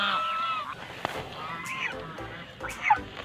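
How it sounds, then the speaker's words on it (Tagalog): Several geese on a farm in Bacnotan, La Union, Philippines, honk repeatedly at moderate distance, overlapping calls scattered through a noisy outdoor background. "ganso kan pato mo. Ganso kan pato."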